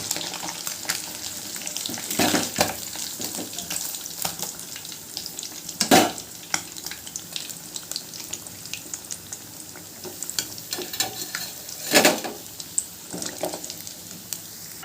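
Fish fries in a pan with a steady, moderate sizzle, broken by a few louder bursts of spattering oil up close.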